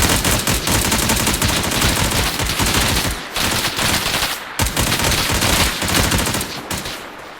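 Dense automatic gunfire from a tactical shooter video game, sustained rapid bursts that fill the space loudly, with two brief pauses before the firing resumes.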